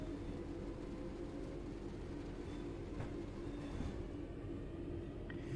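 A Class 323 electric train runs in Train Sim World 3 on the Cross City line, a low steady rumble of wheels and motors with faint clicks and a brief squeal, no talk.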